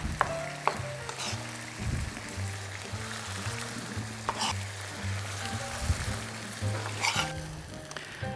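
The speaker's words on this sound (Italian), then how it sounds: "prendiamo il pomodoro e lo andiamo a tagliare in modo grossolano e lo mettiamo subito nella padella" Chopped tomato sizzles steadily in garlic oil in a pan, a soft continuous frying hiss with occasional stirring scrapes and light pops.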